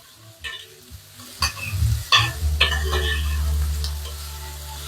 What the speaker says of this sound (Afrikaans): Gaan ek die eie baie mooi lekker bruin braai.